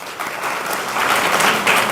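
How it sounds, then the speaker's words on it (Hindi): Audience at a student felicitation award ceremony in Ayodhya claps steadily for about two seconds, a dense, close burst of applause that swells slightly toward the end, with no one speaking over it. "ताली बजा दो भाई"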